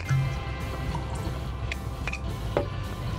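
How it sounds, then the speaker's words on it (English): Michter's Kentucky bourbon is poured into a glass aboard a sailing boat, giving soft liquid trickles and a few small drips, faint and close, with no talk. "So let's give her a pour."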